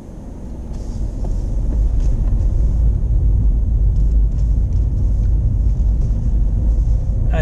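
A car engine pulls away in first gear during a driving lesson, its deep rumble swelling over the first second and then holding steady and loud.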